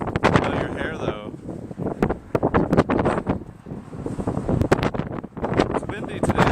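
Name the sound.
wind blowing outdoors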